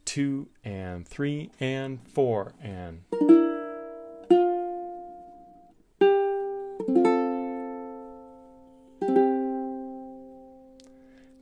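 Ukulele playing a phrase of a song, four strummed chords ringing out one after another at an even pace, close and clear, after a voice counts aloud at the start.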